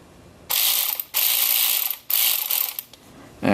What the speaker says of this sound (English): It's a Skill cordless 1/4 inch drive.